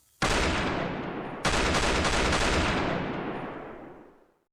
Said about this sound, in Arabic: طلقات رصاص كانوا قراب بزاف منا